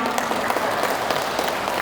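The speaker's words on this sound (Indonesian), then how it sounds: "tepuk tangan buat kita semua" Participants at an education session on deep learning practice clap together, a brief burst of brisk, fairly loud applause close by.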